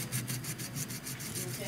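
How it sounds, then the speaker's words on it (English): Sandpaper rubbed over a sterling silver leaf for a bracelet gives a quick, rhythmic scratchy rasp. The short back-and-forth strokes are close and fairly soft. "I run the sandpaper over it"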